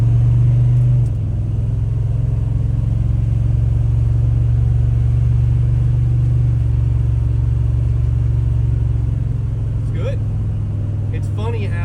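A turbocharged police car engine, rebuilt after a blown head gasket, hums in a steady low drone while driving, with a brief shift in tone near the start and faint higher sounds toward the end.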